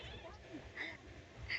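Young kittens play-fighting indoors, one giving short high meows twice over a steady background hum, with a person talking nearby.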